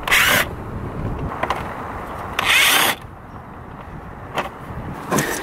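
A power tool whirs in three loud bursts, separated by quieter ratcheting and mechanical clicks, as it drives screws out of a part on an MK7 Volkswagen GTI, heard close up.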